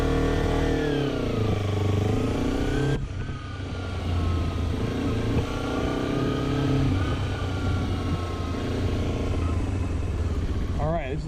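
2011 Kawasaki Ninja 250R motorcycle engine while riding, a loud continuous drone with rising and falling pitch as it shifts through gears, close and steady throughout.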